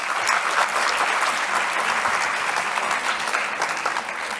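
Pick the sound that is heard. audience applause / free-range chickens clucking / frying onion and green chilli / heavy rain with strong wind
audience applause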